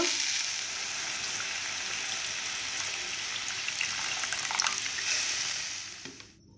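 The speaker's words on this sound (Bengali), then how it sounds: "ভালো করে কষে নিয়েছি এইভাবে। এরপর জল দেব।" Water poured into a pan of Malabar spinach curry hisses into a steady, close sizzle that lasts several seconds and then fades away.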